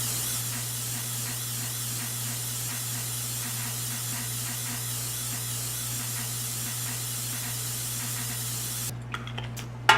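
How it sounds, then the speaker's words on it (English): A long, steady hiss of aerosol cooking spray onto a baking tray, close and continuous, ending with a few light clicks. "we're just gonna spray that with a little cooking spray"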